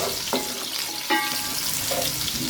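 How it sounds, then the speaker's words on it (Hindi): Sliced medium onion frying lightly with spices in a pan, a steady close sizzle with a few scraping stir strokes at intervals. "फ्राई कर लेंगे प्याज को हल्का सा।"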